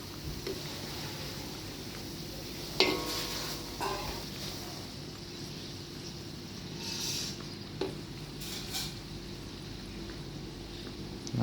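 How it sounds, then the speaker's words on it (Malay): Large, king-size Indian samosas frying in a wok of hot oil give a steady close sizzle, with a few brief clinks and stirring knocks along the way. "Panas minyak, lepas boleh goreng lah samosa India kita ni"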